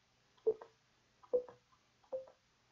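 Three evenly spaced electronic piano-like notes generated by a C program on a computer, each a short clear tone with a quick decay, played one after another about a second apart in an otherwise quiet room.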